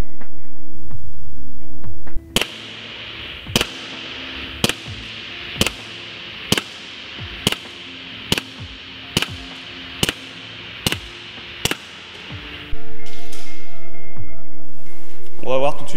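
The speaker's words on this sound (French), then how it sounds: "on passe tout de suite au test de tir" A series of about ten sharp, evenly spaced shots from a CO2 ACP601MC airsoft pistol at 5 meters, each a crisp crack with a short decay, fired alone at a steady pace.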